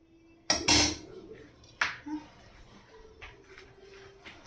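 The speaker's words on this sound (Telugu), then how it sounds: "దీన్ని మూత పెట్టుకోవాలి." A metal lid is set onto a cooking pot of Hyderabad-style paya, giving a couple of sharp clanks followed by a quieter knock and a faint background hum.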